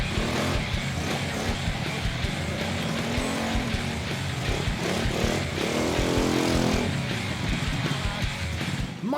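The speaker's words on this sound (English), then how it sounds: "petrol engine means he's off to a turbo-boosted start" A petrol engine starts off and runs loud and close, with a continuous rough motor drone that rises and falls in pitch.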